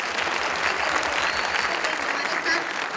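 An audience at a company's third anniversary event breaks into loud, continuous applause, a dense wash of clapping that holds steady for the whole moment, close and energetic.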